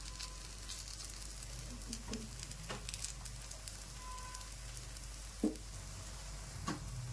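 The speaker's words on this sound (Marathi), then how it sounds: "तर त्याला मस्तपैकी कमी याच्यावर फ्राय होऊ देऊया आपण." A tikki shallow frying in a pan on low heat gives a steady, soft sizzle, with a few faint clicks and small pops from the oil.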